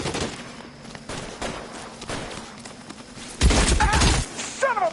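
Gunfire in the video game L.A. Noire: scattered thuds, then a loud burst of rapid shots and ricochet-like whines close by, with footsteps in between.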